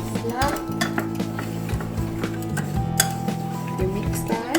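Flour and sugar mixed in a bowl for chocolate cake: repeated clinks and scrapes of a utensil against the bowl in a quick irregular rhythm, close by, over steady background music with some tonal hum.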